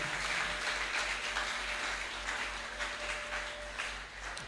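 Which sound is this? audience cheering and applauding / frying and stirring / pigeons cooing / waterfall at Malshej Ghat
audience cheering and applauding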